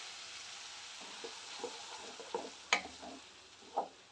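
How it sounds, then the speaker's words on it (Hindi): Ginger-garlic paste fries in a pan as tomato puree is added, a soft continuous sizzle broken by a few faint spoon clinks and stirring taps, quiet and close. "अदरक लहसुन को फ्राई करते हुए 5 मिनट हो गया है, तो इसमें मैं अभी टमाटर प्यूरी डाल दूंगी।"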